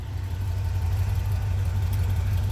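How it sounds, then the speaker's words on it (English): A Ford Maverick engine idling on a hot day, a steady low rumble that holds an even, unchanging level throughout with no revving. "I'm just idling it for a while."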